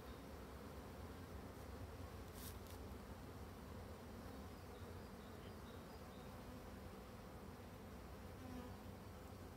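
An agitated colony of black honeybees buzzes densely and continuously during a hive inspection, a faint, steady swarm drone with no voices.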